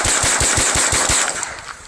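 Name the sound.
gunfire, shooting CCI Stinger rounds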